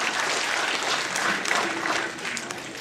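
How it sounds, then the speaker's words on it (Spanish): Applause from a church congregation at a Christmas gathering, a steady wash of clapping for nearly three seconds with no talk over it. "¡Un aplauso!"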